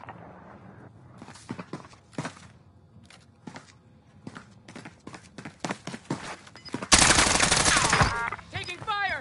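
Call of Duty Warzone gunfire: scattered sharp shots and footsteps, then a loud, sustained automatic burst near the end.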